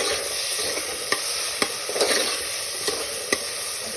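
A paste of mint, coriander and green chili fries in a pan, a steady sizzle punctuated by several sharp clicks of a utensil stirring and scraping, close and alone.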